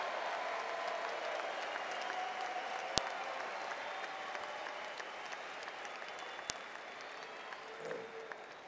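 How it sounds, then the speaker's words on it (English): Applause from a large arena crowd at Pat Riley's court dedication ceremony at Kaseya Center: steady, dense clapping and cheering that holds at an even level throughout, with a few sharper claps standing out. "I almost want to tell Mike Diamante, stand up and make some noise for all of these people right behind you"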